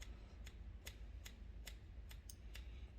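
Steel scissors cut hair freehand during a men's haircut in a salon, about eight crisp, evenly spaced snips over low room noise.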